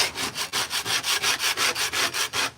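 A putty knife is drawn flat across a door to scrape off loose material, a close rhythmic rasping of about a dozen quick back-and-forth strokes with no talking.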